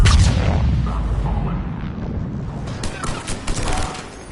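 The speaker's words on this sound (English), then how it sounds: "Those cannons have to be stopped." Heavy cannon artillery fire in the video game Mass Effect 3 booms as a loud, dense, rumbling barrage, with continuous low thunder and scattered sharper blasts toward the end.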